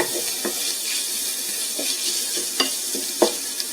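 Commercial pork sage breakfast sausage frying in a little olive oil in a pan, a steady hiss of sizzling with scattered sharp pops and crackles, close and moderately loud, no voices.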